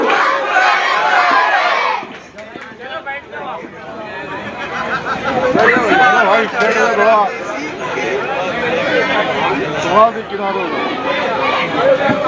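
A crowd at a gathering in Madani Nagar cheers and shouts for a Mufti Sahab, loud chanting voices and hubbub rising and continuing with some clapping mixed in.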